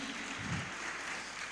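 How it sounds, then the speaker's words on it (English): Audience applause at a youth empowerment summit, a dense, steady wash of clapping from a crowd that holds evenly for the whole stretch without voices. "Please, a round of applause for them."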